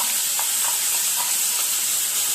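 Crushed ginger and garlic dropped into hot oil for Punjabi chole masala, giving a steady, close hissing sizzle with a few faint light taps from a spoon.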